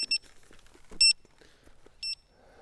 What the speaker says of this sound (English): Why does this wheel still beep like that?